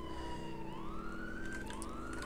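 Police car siren in the SA-MP game, a wailing tone sliding up and down repeatedly over a low engine rumble, quiet and continuous with no talking.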